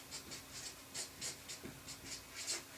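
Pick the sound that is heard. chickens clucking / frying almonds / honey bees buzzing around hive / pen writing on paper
pen writing on paper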